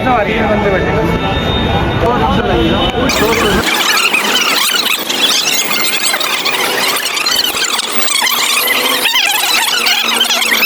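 A metro train at a terminal station squeals loudly and continuously as it turns around, a harsh, sustained metallic screech filling the whole stretch, with voices faintly audible underneath.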